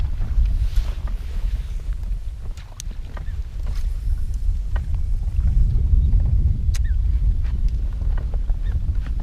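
Wind blows across a lake during a pike-fishing trip in a boat, buffeting the microphone with a steady, loud low rumble and gusts, while faint small knocks and splashes sound around the boat.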